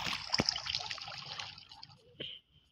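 Water trickles and splashes in the Craftsman video game, a faint dribbling flow with a couple of brief splashy bursts while a voice talks over it.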